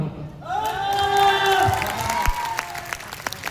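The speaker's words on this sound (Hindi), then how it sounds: "तालियां वैसे नहीं मिली जैसे मिलना चाहिए मोहब्बत वालों।" An audience at an award hosting event in Bhagalpur applauds, with scattered claps and whoops rising into a brief burst of cheering that then thins out.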